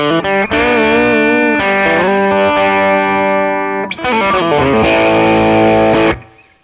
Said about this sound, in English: a Timmy is a transparent overdrive